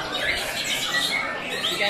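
A murai (white-rumped shama) songbird sends out quick, high chirping and squawking notes, fairly close, with people talking over it.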